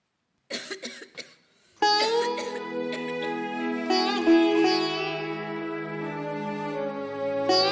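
A quick burst of several coughs, followed by a sustained droning musical tone that continues to the end.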